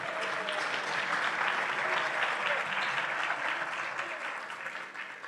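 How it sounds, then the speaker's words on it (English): Audience clapping for a speaker at a 100th anniversary program, a steady, moderately distant patter of many hands with some murmured voices underneath, lasting several seconds and fading a little at the end. "Let's give Jimmy a round of applause."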